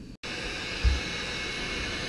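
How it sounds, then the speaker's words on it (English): A heat gun runs with a steady, close whooshing hiss of hot air, used to shrink tubing over a wire connection on a homemade lighted LED whip; a faint bump sounds partway through. "So go ahead and fire up the heat gun."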